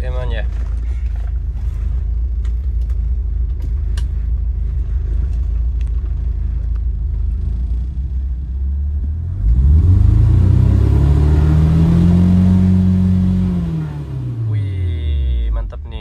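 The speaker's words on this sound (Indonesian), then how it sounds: "Oke, sekarang kita coba untuk pergerakan RPM-nya." A car engine fitted with a tuning chip idles with a steady low rumble, then revs up in a sweeping rise and falls back, loud and close, with a second short rev at the end.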